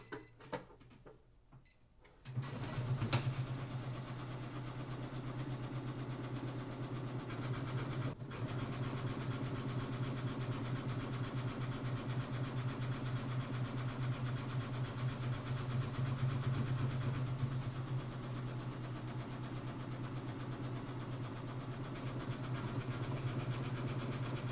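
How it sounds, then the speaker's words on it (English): A sewing machine stitching a buttonhole automatically runs with a steady, close mechanical hum and rapid needle chatter. It starts after a brief quiet moment and keeps going evenly for the whole stretch, with no talking. "the machine is going to automatically sew that buttonhole for us."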